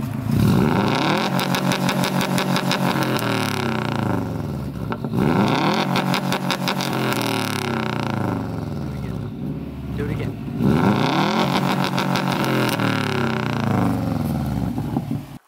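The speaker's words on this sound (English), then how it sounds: "now show them launch control" A turbocharged car revs hard for a launch control start, its engine climbing and falling in three long sweeping surges of revving that ring loud and close, with no voices.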